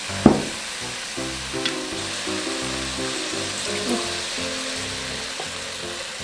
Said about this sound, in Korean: 넣고 살짝 볶아줄게